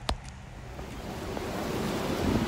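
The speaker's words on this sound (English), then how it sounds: "the falls are behind me" Niagara Falls roaring in the river gorge below, heard from a boat as a broad continuous rush of water with wind buffeting the microphone, steady and enveloping with a slight swell toward the end.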